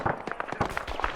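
Friendly rifle fire in Arma 3, a quick string of sharp, fairly faint shots popping in uneven rapid succession from some distance.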